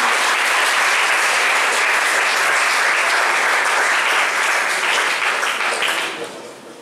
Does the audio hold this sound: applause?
yes